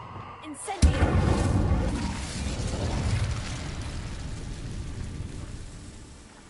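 The Incendio fire spell in Hogwarts Legacy bursts with a sudden loud whoosh and crackling blast, then a rumbling roar of flame slowly dies away.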